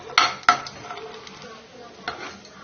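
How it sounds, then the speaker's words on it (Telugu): Cashews and fresh coconut pieces frying in hot ghee in a pan, with a soft sizzle under a few sharp clinks of a spoon against the metal pan, all close by. "ఇప్పుడు దీనిలో కొన్ని జీడిపప్పులు కొన్ని పచ్చి కొబ్బరి ముక్కలు వేసి వేయించుకోవాలి"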